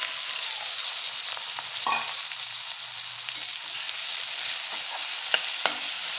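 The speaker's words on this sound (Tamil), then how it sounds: "ஸோ பெருங்காயம், இதில் வேக வச்சுருக்கேன் இந்த காராமணியை அப்படியே சேர்த்துக்கிறேன்" Boiled cowpeas (karamani) are added to a pan with asafoetida and stirred, a steady sizzle with a few sharp spoon scrapes and taps against the pan, close and alone without speech.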